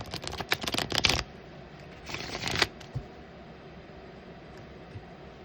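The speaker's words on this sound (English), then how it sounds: "3 more shuffles" Tarot cards are shuffled up close in two short bursts of riffling, the second a little after the first, then quiet room tone for the rest.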